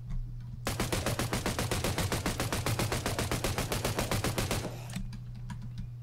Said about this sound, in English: I'm gonna have to hit him with my AK